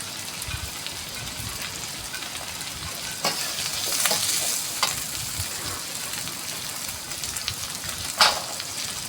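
Onion, tomato and garlic are sautéed in a pan with a continuous frying hiss. Scraping stirs and a few louder bursts of sizzle come through, one near the end.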